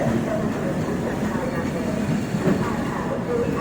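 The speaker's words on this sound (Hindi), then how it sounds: "तो निर्धारित समय से ट्रेन जो है नागपुर से निकल चुकी है अब।" Gondwana Express train rolling steadily after departing Nagpur, a continuous close rumble of wheels and carriage noise with faint rhythmic rail clatter, loud and unbroken throughout.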